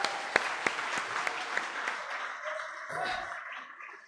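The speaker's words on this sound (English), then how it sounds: "can I ask you to give yourselves a round of applause for" An audience at a panel discussion on politics and the environment gives a round of applause, a few sharp claps standing out at first before the clapping thins and fades, with a brief voice near the end.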